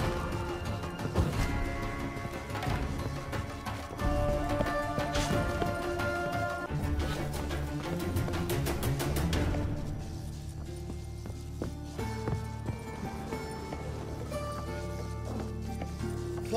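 A horse gallops in the video game The Witcher 3, with rapid, continuous hoofbeats thudding under a dense, busy mix of game sounds and music that thins out partway through.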